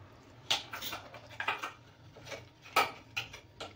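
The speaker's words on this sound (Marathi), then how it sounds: "इडल्या आता आपल्याला काढायच्या आहेत" Light metallic clinks and taps of utensils against a steamer plate as idlis are removed, several sharp knocks spaced irregularly, close by with no talking.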